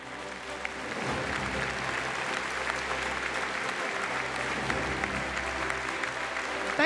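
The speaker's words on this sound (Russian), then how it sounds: "Уважаемые лауреаты, эти аплодисменты для вас." Steady sustained applause from a forum audience for laureates, a dense even wash of many hands clapping throughout, fairly loud with no break.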